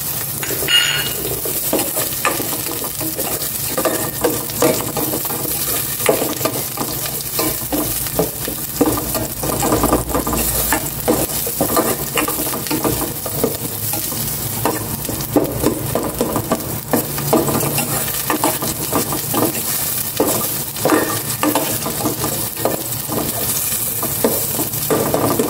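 Onion and pork sauté in a pan with loud, continuous sizzling, close up, punctuated by rapid scraping and clinking of a utensil stirring against the metal, with no talking.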